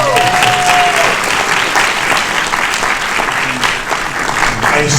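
Loud, sustained applause from an audience at a Q&A following a screening of Killers of the Flower Moon, dense clapping filling the whole stretch with some crowd noise mixed in.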